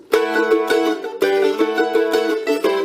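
A bright mandolin chord, fretted with a full-finger barre, strummed repeatedly in an uneven rhythm, ringing close and clear with no voices.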